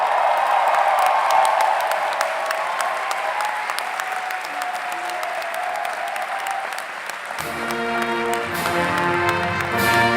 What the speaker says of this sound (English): graduates, please turn and face your families and friends and supporters and give them a big round of applause